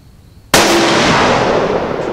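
A single sharp .22 caliber rifle shot cracks out loud and close after a brief quiet, its blast spreading into a long, sustained echoing roll across an outdoor range.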